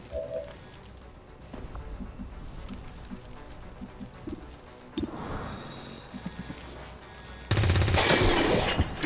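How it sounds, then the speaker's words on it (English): SMG fire in XCOM 2's Long War of the Chosen, with a soft burst near the middle and a loud, sustained rattle of shots at the end over a steady game ambience. "it'll be a long-range SMG shot"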